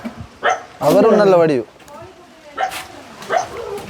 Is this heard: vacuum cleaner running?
no